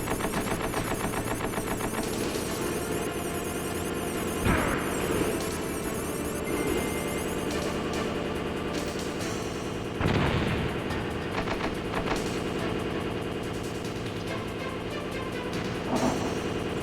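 Rapid turret gunfire from the video game Metal Gear Solid rattles on continuously over dense game music, with heavier bursts and booms punching through at intervals, loud and close with no talking.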